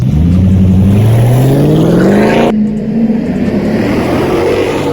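A Mercedes CLK 500 engine revs hard, pitch climbing steadily for a couple of seconds before dropping off, then settling into a loud rumbling idle, close by.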